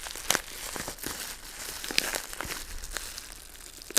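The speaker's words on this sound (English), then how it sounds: "I'm just gonna rip this last bubble." Plastic bubble wrap on a camera package crinkles and tears up close, with several sharp pops and rustles spread across a few seconds.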